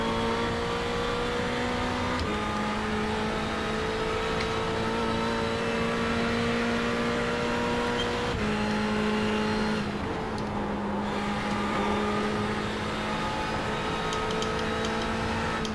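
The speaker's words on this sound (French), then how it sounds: "la Ferrari elle accélère" A Ferrari race car in iRacing accelerates hard, its engine note climbing steadily through the gears with brief dips at each upshift, loud and continuous at close range, with no talk over it.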